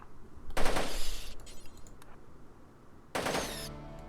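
Gunfire from colonists in the RimWorld video game, two loud bursts of rapid automatic shots with a quieter gap of scattered shots between them.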